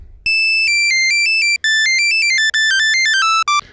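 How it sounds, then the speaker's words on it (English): Korg Monologue oscillator 1 set to a sawtooth wave at its highest frequency, playing a bright, buzzy tone whose pitch steps through a series of held notes with brief gaps, loud and alone. "So that is our highest frequency in oscillator 1 in the sawtooth wave shape"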